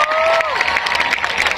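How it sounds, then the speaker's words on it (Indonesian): Crowd applause and cheering at a large outdoor orasi kebangsaan gathering in Jember, a loud, dense wash of clapping and shouts with a whistle-like tone sliding down at the start, continuing for the full clip. "Tepuk tangan untuk Jember."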